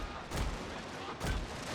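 Two heavy booms of cannon fire in a Prussia strategy video game, each a dense, full-band blast about a second apart over a loud, steady roar of battle.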